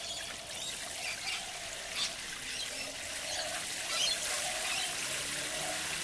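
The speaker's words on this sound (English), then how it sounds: "So just going to give it a bit of a water." Water pours steadily from a can or hose onto a newly planted plant in a garden, a soft continuous splash and trickle heard fairly quietly, with faint birds in the background.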